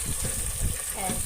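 Ginger garlic paste sizzling in a hot pan, a brief steady hiss of frying with faint stirring scrapes, heard up close and alone.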